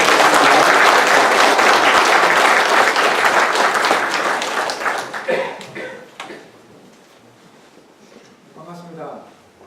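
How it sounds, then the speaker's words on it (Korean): A congregation applauds to welcome a missionary speaker at a church service, loud sustained clapping that thins out after about five seconds, then a voice begins speaking. "우리 기대하는 마음으로 큰 박수로 한번 맞았으면 좋겠습니다."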